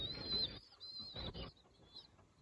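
Young pigeons jostle over food, making soft cooing and thin high squeaks with brief scuffling sounds, quiet and close, with no voices.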